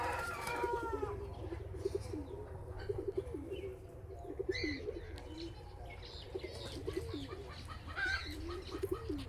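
Racing pigeons coo steadily at their loft, a continuous low rolling murmur from several birds at close range, with occasional faint chirps and brief wing flaps over a soft outdoor background.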